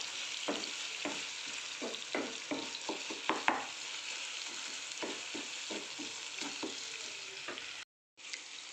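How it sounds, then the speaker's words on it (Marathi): Turmeric stirred into tomato masala frying in oil, a steady sizzle with repeated close spatula scrapes and taps, then a brief cut to silence near the end. "आता आपण बाकीचे मसाले याच्यात टाकून घेऊया सगळ्यात आधी हळद चांगली मिक्स करून घेऊया"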